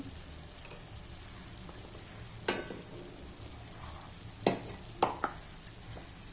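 Carrot and capsicum curry with ginger-garlic paste, chilli powder and turmeric is stirred in a frying pan, sharp scattered clicks and scrapes of the spoon over a faint steady sizzle, quiet and close.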